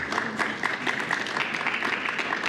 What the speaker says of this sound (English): Lots of applause is good on that one.